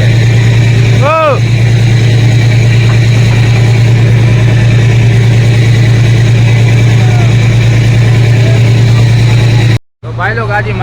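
A new fishing boat from Mangrol runs its engine in a steady, loud, low idle drone for about ten seconds, with a brief whistle-like tone early on and a sudden cutoff near the end.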